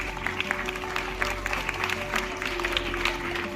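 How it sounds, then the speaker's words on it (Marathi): An audience claps together at a Women's Day gathering in a teachers' training college, a steady patter of many hands at moderate distance. "त्यांच्यासाठी एकदा सगळ्यांनी टाळ्या वाजवा"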